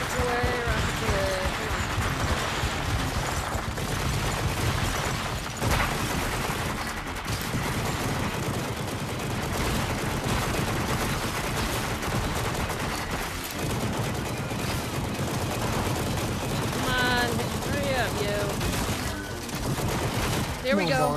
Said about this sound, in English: Rockets away, rockets away, rockets away.